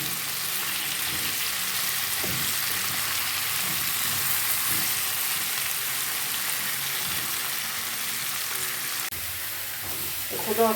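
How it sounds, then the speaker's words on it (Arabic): Potatoes and vegetables fry together in a pan, a steady close sizzle and hiss running throughout, with stirring scrapes near the end. "وقلي بقى كله في قلب بعض قبل ما تنزلي بالصلصه"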